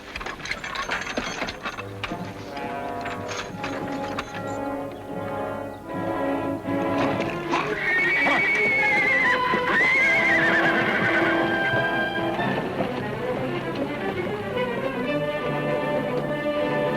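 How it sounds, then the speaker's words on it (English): A horse gives a long, loud whinny over a steady clatter of hooves and creaking harness, with the neigh rising and falling in pitch. "All right, Ed, unhook the horses."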